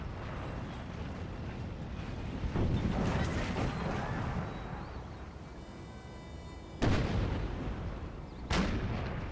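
Civil War artillery firing at Gettysburg in a strategy video game, heavy cannon booms arriving in separate blasts, two sharp ones late on and a rumbling salvo earlier, with wind-like battlefield noise in between.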